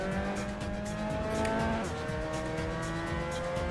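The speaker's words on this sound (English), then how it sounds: "And the downshift." A Mazda MX5 Cup race car at Silverstone in a VR racing game drones loudly and continuously, its engine note dropping and shifting through a downshift with tire squeal under braking.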